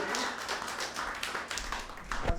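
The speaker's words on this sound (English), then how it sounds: "give me a huge round of applause for Mr." Comedy show audience clapping for a comedian taking the stage, a patchy burst of individual claps and scattered applause from a small room, fairly close, with a thump near the end.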